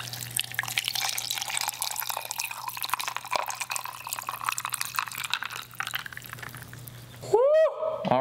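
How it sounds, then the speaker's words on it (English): G Fuel energy drink pours over ice, a trickling, dripping liquid sound running steadily under a low hum, ending with a brief rising gurgle as the container fills. "Let's pour this sucker in and let's just see what kind of comes of it"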